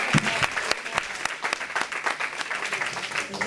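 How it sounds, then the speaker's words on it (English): Brief round of applause from a congregation at a church youth service, fairly dense clapping with distinct individual hand claps, moderately loud, lasting a few seconds. "Give them another round of applause."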